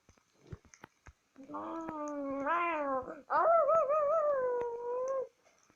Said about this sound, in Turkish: kediciklere bak lütfen bak kedicikler var. Kedicikler var bak şurada.